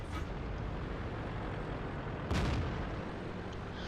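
A tank cannon fires once in World of Tanks, a single sharp blast cutting through a steady low engine rumble and battlefield noise, fairly close.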